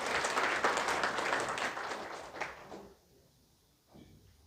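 Audience applause at a formal ceremony and inaugural meeting of a Jeju City advisory council, a dense sustained clapping that fills the room for about three seconds, then drops to a quiet murmur with a brief faint flare near the end.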